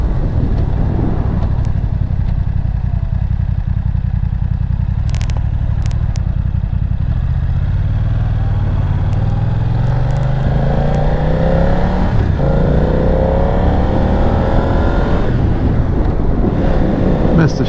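A BMW F900R motorcycle engine drones loudly and steadily while riding, with revs climbing and falling through gear changes and a missed shift, under heavy wind rush across the microphone and no one talking.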